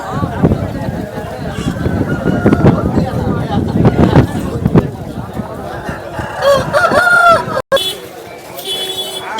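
Roosters crow and clucking fowl call at a Vijayawada rooster market, several strained crows rising near the end over a busy bed of bird noise and background voices.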